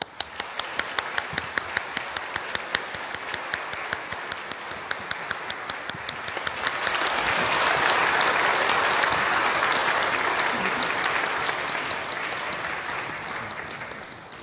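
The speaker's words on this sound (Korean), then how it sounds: "꽃다발 증정 큰 박수로 화답해 주시기 바랍니다" A congregation at a church pastor's installation service applauds a flower presentation, starting with steady rhythmic clapping and then swelling into full, dense applause that fades after several seconds.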